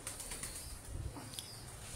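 A purebred pigeon gives a faint, soft coo with a brief rustle of wings, heard close by in a quiet space with no talking.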